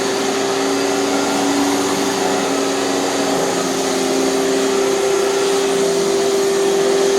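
A Hoover TurboPower 5K canister vacuum cleaner runs steadily on carpet, a loud constant motor whine with a strong fixed hum, close and unbroken throughout with no voices.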